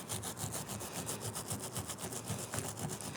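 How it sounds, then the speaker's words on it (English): A nylon brush scrubs moss off the trunk of a cotoneaster bonsai in quick back-and-forth strokes, a close, soft, rhythmic scratching rasp that repeats steadily throughout. "we take the nylon brush and just give the trunk a scrub"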